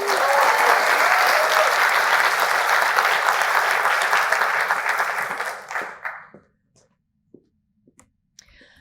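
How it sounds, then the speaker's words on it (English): Loud, sustained audience applause at the Games for Change 2023 awards ceremony, a dense crowd of clapping that tapers off and dies away, leaving a few scattered claps. "can we give them another round of applause?"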